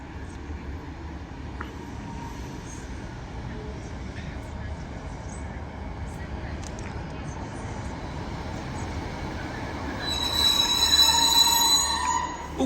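Train pulling into a station platform, a steady low rumble of approach that swells near the end with a brief high squeal of wheels and brakes.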